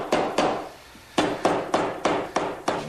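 Hammer blows strike wood while a piece of a wooden medicine cabinet is driven down: two quick strikes, a short pause, then a steady run of five or six sharp, loud, evenly spaced whacks.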